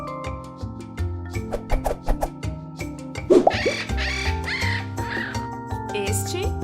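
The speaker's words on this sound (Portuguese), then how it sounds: "Este é o som do periquito, que vai charlar de novo." Parakeet calls sound over a children's animal-sounds song, with repeated bright squawks and caws set against steady music.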